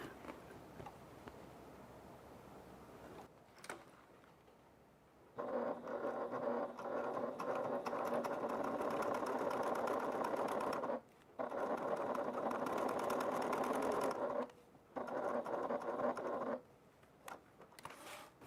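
A sewing machine stitching a faux leather bag runs in long steady bursts of rapid whirring, pausing briefly between runs, with quiet handling sounds in the gaps and no talking.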